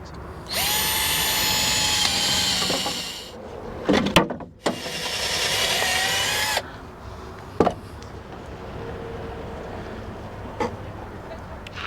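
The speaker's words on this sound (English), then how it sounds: "We just got to drill some holes and we put the bolts in" A power drill whirs in two long, steady runs close by, drilling bolt holes while installing an RV battery, separated by clunks and handling knocks, then quieter tapping afterward.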